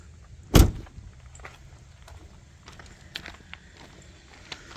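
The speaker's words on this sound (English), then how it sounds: "Just pull forward to pop the hood." Hood release lever under the dash of a 2007-14 GM truck pulled, a single sharp clunk near the start followed by faint small clicks and rustles in a quiet cab.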